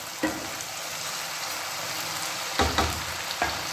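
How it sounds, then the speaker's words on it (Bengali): Red chili and Schezwan sauce sautéing in a pan, a soft steady sizzle broken by a few brief scrapes and clatters of stirring. "সবই সটে করে নেবো।"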